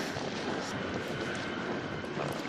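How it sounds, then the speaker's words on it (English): A big tractor engine passing on a country road near a bridleway, a steady broadband rumble and roar held at constant loudness throughout, somewhat distant. "I can hear another tractor, so hopefully we'll just miss that one"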